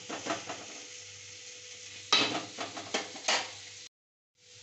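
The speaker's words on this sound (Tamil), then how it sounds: "நல்லா கிளறுங்க" Chopped potatoes stir and sizzle in hot oil in a pan over low heat, with scraping spoon strokes against the metal in bursts over a steady frying hiss, ending in a brief pause.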